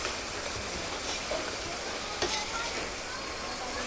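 Food frying and being stirred in a pan in a home kitchen, a steady close sizzle filling the whole clip with a few faint scrapes and clinks of stirring.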